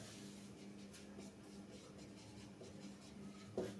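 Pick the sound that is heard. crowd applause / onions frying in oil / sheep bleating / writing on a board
writing on a board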